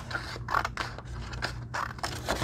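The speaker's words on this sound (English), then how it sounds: "I'm going to cut my circles off" Scissors cut out paper circles with a quick run of close, crisp snips and scraping blade strokes, heard alone with no talk.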